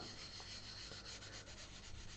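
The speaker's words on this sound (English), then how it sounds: "So let's get this nice and wet. This is waterproof sandpaper." Steady close rubbing rasp of waterproof sandpaper worked wet over a surface, prepping a Koto White Tiger, a continuous even scrubbing texture throughout with no voices.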